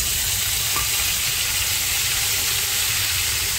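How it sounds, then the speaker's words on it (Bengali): Tomato paste hits a hot pan already holding cumin seeds and sizzles loudly and steadily with a constant hissing fry, close up and with no voices. "এখানে আমি দিয়ে দেবো টমেটো একটু পেস্ট করে রেখেছিলাম"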